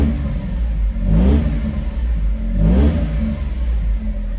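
A Honda S660 small sports car engine idles, then revs up sharply twice, each rev rising and falling quickly, close and loud.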